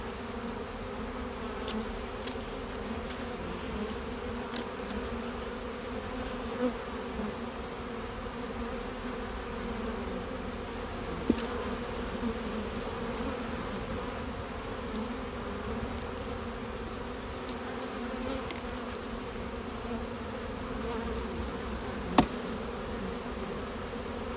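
Honey bees hum steadily inside an open beehive, a continuous even drone at moderate level with occasional faint clicks and no voices.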